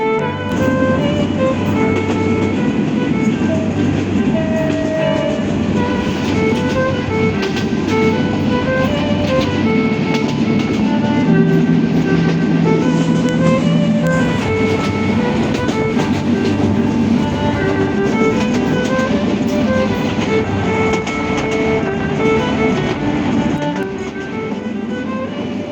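A train runs along a rural railway between Pirgachha and Rangpur, giving a steady, loud rumble and rattle that holds throughout without a break.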